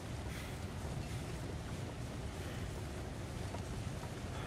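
Wind blows in The Long Dark survival game, a steady low rushing roar with a broad hiss, constant and loud, with no voices over it.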